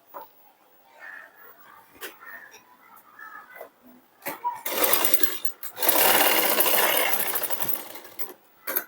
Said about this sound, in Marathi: चला आता आपण हे टक्स मारून घेऊया